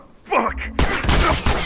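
A burst of rapid gunfire rings out in The Last of Us Remastered multiplayer, loud, dense and close, cutting in abruptly after a brief voice and continuing in sharp overlapping cracks.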